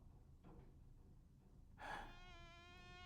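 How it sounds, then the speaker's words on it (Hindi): A fly buzzes in a thin, steady whine that starts abruptly partway through, faint and close, over a quiet background with a soft breath before it, in the animated series The Amazing Digital Circus. "रुको, यहाँ एक मक्खी है।"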